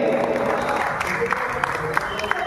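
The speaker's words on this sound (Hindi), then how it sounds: "जोरदार तालियां हमारी नवगत कलेक्टर मैडम के लिए" Applause rises from the audience at a gathering welcoming a newly appointed woman district collector, a steady patter of many hands with a voice carrying over it.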